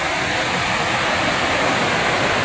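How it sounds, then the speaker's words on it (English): A huge waterfall swollen by heavy rain roars as a dense, steady rush of falling water, loud and close, with no pause or other sound. "And there's a waterfall in front of me."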